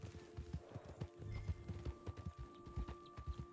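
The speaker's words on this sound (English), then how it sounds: "That's a new breed of horsey. Oh, that's a Morgan." Horse hooves clip-clop at a brisk, regular pace in Red Dead Redemption 2, a Morgan-breed horse walking over ground, close and clear, with soft ambient tones lingering beneath.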